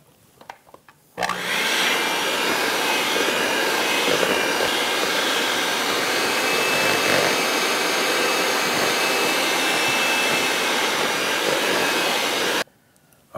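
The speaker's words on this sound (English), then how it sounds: "I'm at the point where I'm gonna wanna stop with the mixer, because it's getting more doughy" A handheld electric mixer whirs steadily through doughy batter for Halloween finger cookies, a loud, even drone close by that starts abruptly after a second and stops near the end, no talking.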